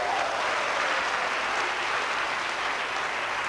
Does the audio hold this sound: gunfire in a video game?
no